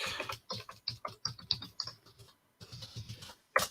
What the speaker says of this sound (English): So I'll type this real quick.